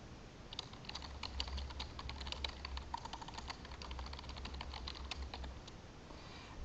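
A comment being typed on a computer keyboard: a quick, steady patter of light key clicks, fairly faint, with a low hum in the background and no speech.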